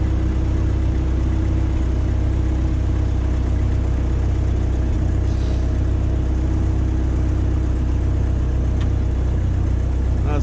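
A Ford 8N tractor engine idling steadily while its front loader slowly raises the bucket, a constant low, near rumble with no change in pace.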